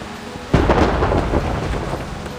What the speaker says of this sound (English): What kind of storm is this?